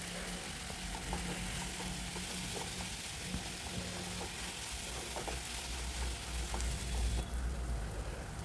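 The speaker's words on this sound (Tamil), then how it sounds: "சேர்த்து நல்லா வதக்கி விட்டுருங்க." Potato and brinjal sauté with garlic in a pan, a steady close sizzle with soft stirring scrapes and clinks running throughout.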